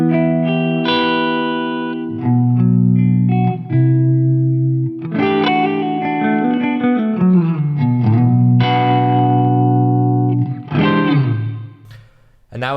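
Electric guitar played through a Headrush set to Fender amp simulation with a Friedman impulse response, chords and single-note runs ringing with a light reverb tail, close and clear, no talking.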